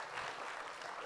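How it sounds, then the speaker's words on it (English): Brief burst of applause from an audience at a youth symposium, a steady, faint wash of clapping heard at a distance throughout. "Another round of applause, please, ladies and gentlemen."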